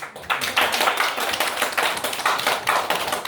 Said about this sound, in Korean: 우리 전혀 잘해서 박수 주세요.